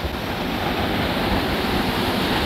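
A waterfall roars as a steady rushing wash of water, loud and continuous with no voices.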